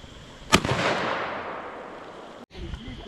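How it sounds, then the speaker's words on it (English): .357 revolver fired outdoors at dusk on a spring bear hunt in Alberta: one sharp, loud crack followed by a long rolling echo, then a brief cut and faint background sounds. "The beavers didn't come, so now he's shooting a 357."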